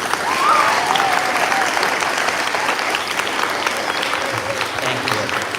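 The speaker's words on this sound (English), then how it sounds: "can you give yourselves a round of applause?" A school assembly audience applauds together in a large hall, a dense, steady wash of many hands clapping at full volume throughout, with no voices standing out.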